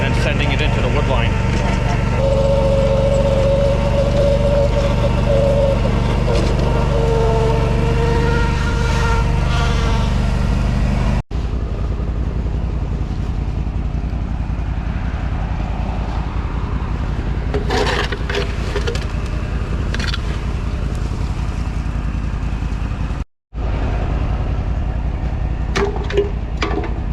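A leaf blower engine drones steadily in a yard, with a loud, continuous motor whine across the whole stretch, briefly cut twice, while scraping and occasional voices sit underneath.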